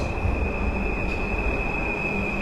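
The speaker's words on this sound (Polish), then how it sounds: "Rusza skład Polregio" A Polregio regional train departs, its rolling wagons giving a loud, close rumble under a sustained high wheel squeal that runs the whole way through.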